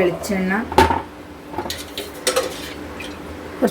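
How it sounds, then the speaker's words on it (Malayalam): A pan lands on the stove with a sharp metallic clank, followed by lighter scattered clinks and knocks of cookware, with a voice speaking briefly at the start. "ഞാൻ ചീഞ്ചട്ടി അടുപ്പത്ത് വെച്ചു"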